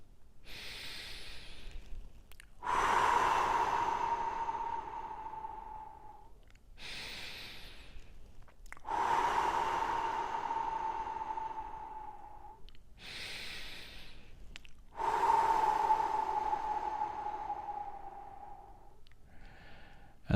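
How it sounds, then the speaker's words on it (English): Three slow, deep breaths, each a long audible inhale followed by a longer, softer exhale, close to the listener and spaced by brief pauses in a quiet room. "we're going to take 3 big deep breaths"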